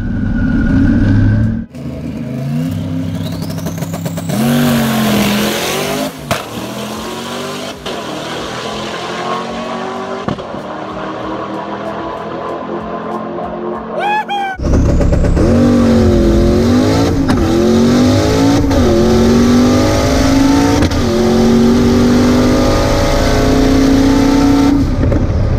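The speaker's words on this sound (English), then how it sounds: "I freaking let off of that clutch and the car pulled harder than it" An LT1-powered drag car launches off the clutch and screams down the strip, its engine roaring loud and close, then cutting briefly before another hard, rising run with gear-change dips and a touch of tire noise.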